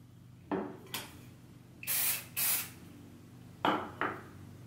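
A volumizing hair spray hisses in short bursts, several quick spritzes separated by pauses, close and crisp against a quiet room.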